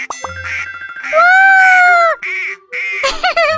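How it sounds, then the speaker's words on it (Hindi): Cartoonish duck quacks sound loud and close, one long drawn-out honk among short quacks, mixed with bright electronic chiming tones like a toy. "बत्तख है।"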